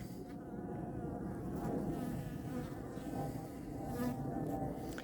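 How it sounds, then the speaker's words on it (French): Honeybees droning steadily at a hive being moved in cold, damp weather after its cover is lifted, a dense continuous buzz of many wings close by with no talk. "Elles se calment très vite les abeilles"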